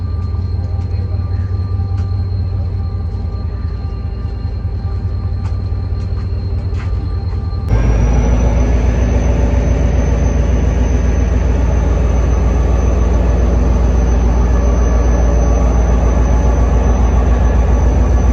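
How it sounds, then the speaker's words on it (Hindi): Marvi Passenger train pulling away from a station in the Thar Desert, a loud, steady rail rumble that abruptly grows heavier and fuller partway through and then holds constant. "ट्रेन अपनी मंजिल आगे तय करेगी मीरपुर खास तक"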